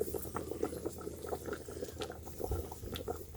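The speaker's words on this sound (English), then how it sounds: "once it boils, picking up, I add more water so it's just to cover the fish." A pot of water with fish bubbles at a rolling boil, a close, continuous burble of popping bubbles and gurgles with no talk.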